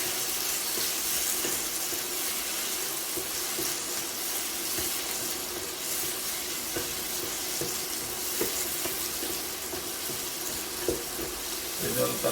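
Tomato goes into a pan of sizzling garlic while cooking pepper chicken, giving a soft, steady frying hiss with faint stirring clicks throughout and a few small taps toward the end.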